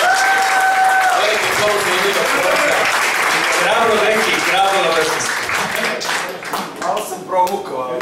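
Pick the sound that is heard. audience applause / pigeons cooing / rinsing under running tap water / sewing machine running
audience applause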